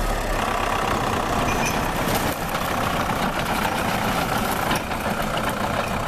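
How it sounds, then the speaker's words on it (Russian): A tracked tractor runs loud and close with a dense, steady engine roar as it crushes 750 kilograms of confiscated Polish apples and pears, the engine note holding throughout without a break. "750 килограммов яблок и груш из Польши оказались не на прилавках, а под гусеницами трактора"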